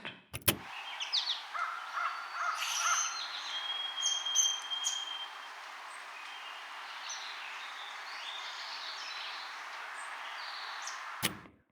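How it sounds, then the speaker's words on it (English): Bright bird chirps and whistles scattered over a soft, airy outdoor hiss, busier early on and then settling into quieter ambience. "Forest."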